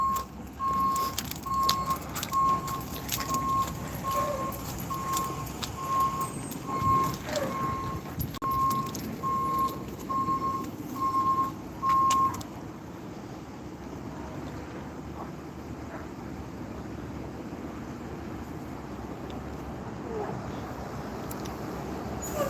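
A tow truck's reversing alarm beeps in a steady, evenly spaced series for about twelve seconds, then stops, with wind buffeting and roadside background noise throughout.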